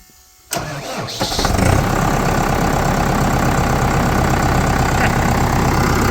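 A FARMER 10286 tractor engine starts after adjustment, cranking briefly before catching and then settling into a loud, steady idle that runs on alone.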